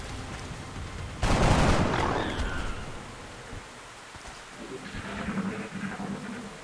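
Gunfire in the strategy game XCOM: Enemy Within: one loud, dense burst of shots erupts and then decays into a rumbling tail, followed by quieter scattered battlefield noise.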